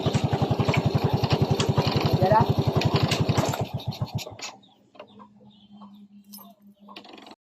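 A Yamaha Vega 115 carbureted motorcycle engine idles with a rapid, steady putter, then sputters and dies when the change pedal is pressed, leaving near silence with faint background sounds.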